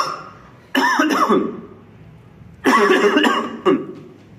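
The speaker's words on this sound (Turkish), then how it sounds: "Öksürme sesi." A person coughs in two short bouts, a cluster of harsh coughs followed by another pair, close and fairly loud, with quiet pauses between.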